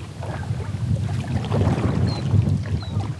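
Breezy wind on an outdoor catfishing trip, a steady rumbling gust buffeting the microphone with faint water and boat-like sounds underneath.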